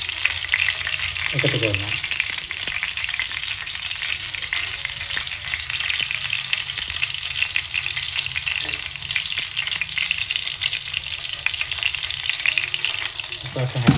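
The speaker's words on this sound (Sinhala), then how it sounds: "අපි මේක බැදීගෙන ඉද්දි මේ විදිහට කරපිංච කොළ ටිකක්" Curry leaves frying in hot oil in a pan, a loud continuous crackling sizzle that runs throughout with occasional stirring scrapes, and a voice speaks briefly over it.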